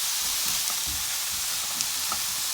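Eggs with spinach frying in a pan on a stovetop: a steady, soft sizzle and crackle with a faint hiss, occasional small pops and stirring scrapes, fairly quiet and continuous with no talking.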